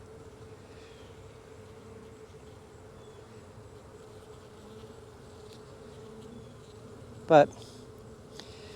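Honey bees crowd a hive frame, giving a faint, steady low hum throughout, broken by one sharp short sound near the end.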